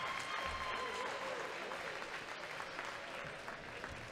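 A crowd applauds the seniors at a homecoming women's college volleyball match, with steady, fairly faint clapping filling the gym and a voice heard beneath it.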